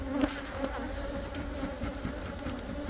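Honeybees buzz at summer hives during a colony inspection, a constant close drone of many insects with no talk.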